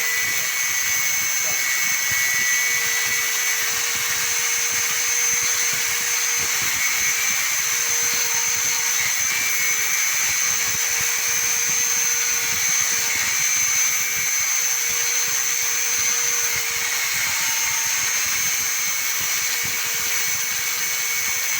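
A power tool cuts through an iron rod with a steady, loud, high-pitched whine and grinding that holds unbroken throughout, close by, with no pauses.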